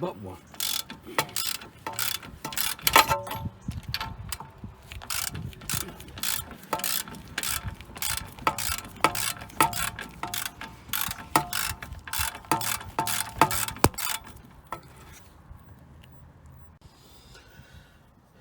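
Repeated clicking of a ratchet wrench loosening car strut bolts, bursts of quick close metallic ratcheting that stop near the end, with a brief spoken remark.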